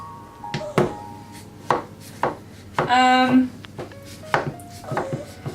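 A knife cutting through overcooked fudge that has hardened like tablet: a series of sharp, close knocks against a board, with one stretch of squealing, grinding scrape in the middle, and no talking.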